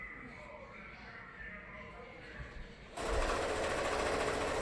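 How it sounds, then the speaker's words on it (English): A sewing machine stitches a homemade fabric mask. It is quiet at first, then runs loudly and steadily through the second half, with faint voices in the background early on. "No, I'm going to sew all the way down."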